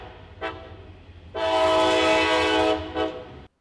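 A train passes close to an outdoor film location, its horn blaring in a long, loud blast with harmonic tones, bracketed by two shorter horn toots before and after, over a low rumbling rail background.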